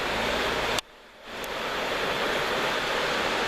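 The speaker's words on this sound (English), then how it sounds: "I just saw the water coming down." Floodwater from a broken water main rushes in a loud, continuous roar close by, broken only briefly by a short dip before the torrent surges back at full strength.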